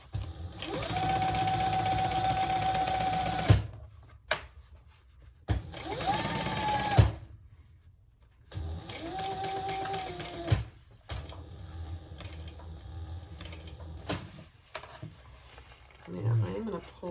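A sewing machine stitches a crossbody bag in loud bursts of rapid mechanical whirring, stopping and restarting several times, with someone talking in the gaps and quieter handling of fabric between runs.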